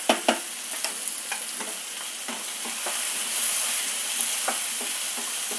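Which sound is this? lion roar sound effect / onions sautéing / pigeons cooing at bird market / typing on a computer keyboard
onions sautéing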